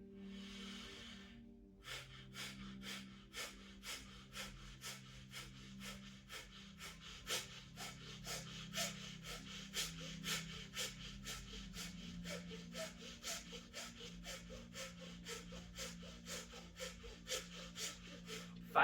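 Breath of fire during a meditative breathing session: a long inhale, then rapid rhythmic forceful nasal exhales repeating steadily and evenly for many seconds, close and soft over quiet background music.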